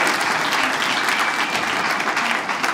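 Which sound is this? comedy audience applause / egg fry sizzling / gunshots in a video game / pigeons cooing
comedy audience applause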